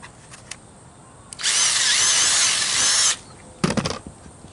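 A power drill whirs loudly for under two seconds as it bores through the plastic of an RV air conditioner drain pan, then stops, followed by brief scraping clatter.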